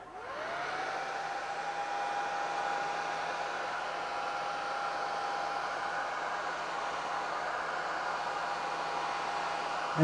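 A small air blower drying paint on a model NYC Hudson locomotive starts up and runs at a steady, loud whooshing roar with a faint constant whine, close by and uninterrupted for about ten seconds.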